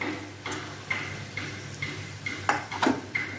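Fried potatoes go into a pan of cabbage kofta curry, with a utensil tapping and clinking against the pan in a steady series of light knocks and faint stirring. No one speaks.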